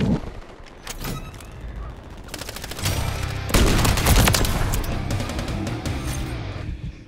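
Automatic gunfire in Modern Warfare 3 multiplayer, dense overlapping bursts and rapid shots that build in intensity, loud and continuous with explosive cracks throughout.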